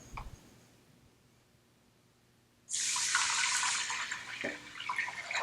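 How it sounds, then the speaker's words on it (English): Water gushes steadily into a pot of millet after a quiet start, a loud continuous splashing pour of six cups lasting several seconds with slight changes in pitch. "Add 6 cups of water."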